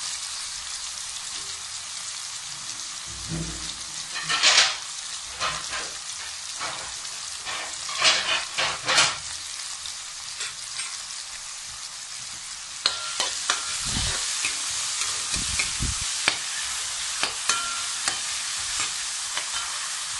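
Capsicum and beans sauté in hot oil for egg fried rice, a steady close sizzle with scraping stirs and clatters from a utensil, with a sharper burst of stirring around the middle and no talking.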